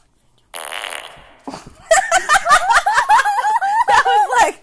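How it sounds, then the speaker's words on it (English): Fart sound effect from a fart sounds app, a short hissing puff followed by a long, loud, rippling flatulent blat with rapid sputtering pulses, played close up, followed by snickering. "first let's go to fart 54 first"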